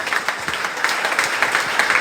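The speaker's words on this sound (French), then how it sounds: "On applaudit Dieu." Applause from a church congregation cheering a recovery, a steady dense wash of many clapping hands for about two seconds with no voices.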